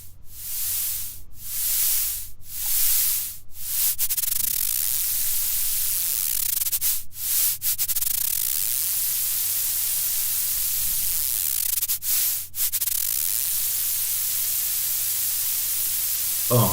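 A modular synthesizer pours out a loud, steady wash of static-like hiss, broken by several sharp, brief dropouts and clicks, with no talking.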